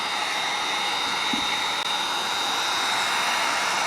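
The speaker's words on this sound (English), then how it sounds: "You can use a hairdryer for this." A constant, even whoosh of a hair dryer running on low, warming leather boots, loud and close, a steady airflow roar with no talking.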